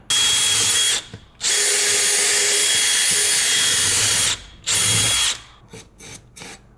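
A power drill bores holes into a house roof in loud, close bursts, one long run followed by shorter stop-start pulses, with no talking.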